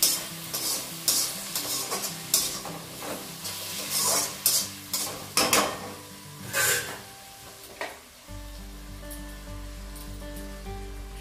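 A cooking mixture is stirred in a hot pan, with repeated scraping strokes over a sizzling bed. A steady low hum comes in near the end, and no one speaks.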